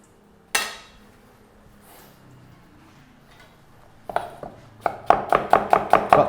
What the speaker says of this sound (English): Okay, so we've chopped all the onions now, nice thin slices